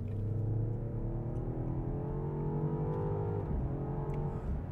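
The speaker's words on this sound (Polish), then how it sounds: "świetnie burczał w trakcie przyspieszania" Engine note of a BMW XM under full-throttle acceleration, a loud continuous rumble whose pitch climbs steadily, drops briefly at a gear change, then rises again.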